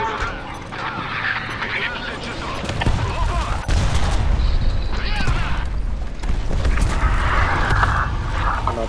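Tank cannon fire in War Thunder Mobile, a session with a T-80U and M1A1: dense, loud blasts and gunfire-like bursts over a constant rumble of engines, with talk running underneath.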